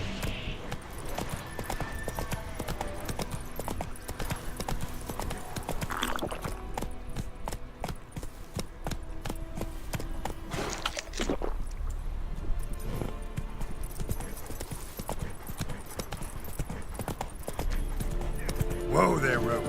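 Hooves of Roach, the horse in The Witcher 3: Wild Hunt, clop steadily in a quick trotting rhythm for the whole stretch. A game soundscape and a speaking voice sit around the footfalls.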